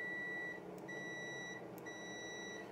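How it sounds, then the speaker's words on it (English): A multimeter gives a steady high-pitched continuity beep across RV wiring in three stretches, separated by brief breaks, fairly faint over a low background hum. "it's making a beeping noise when I have continuity"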